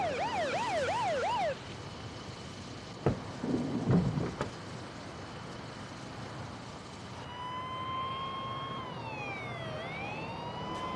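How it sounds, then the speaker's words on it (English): An emergency vehicle siren wails in a fast rising-and-falling pattern, then stops. A faint thud and rustle follow, and later a second siren sweeps slowly up and down at a distance. "Hearing the sound of sirens, Rick drove toward them"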